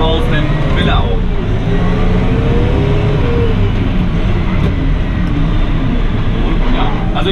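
A McCormick X4.70V tractor engine revs up and accelerates close by, its pitch climbing then settling into a heavy, steady drone, with a person talking over it.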